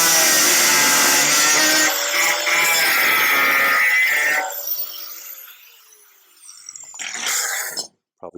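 Body filler on a 1956 International pickup cab-over is sanded by hand, a loud, close, continuous scratchy rasping that fades after a few seconds and then returns briefly.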